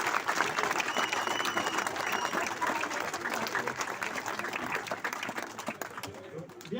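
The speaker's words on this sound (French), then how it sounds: "Donc on peut vous applaudir." An indoor audience at a charity cheque presentation breaks into sustained applause, dense clapping that stays steady before gradually tapering off near the end, with a few voices faintly beneath.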